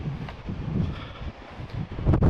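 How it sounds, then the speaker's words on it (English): Steady wind gusts buffet the microphone on an exposed trail up Kebnekaise, Sweden's highest mountain, a low rumbling rush that swells louder near the end, with no talk. "It's very windy."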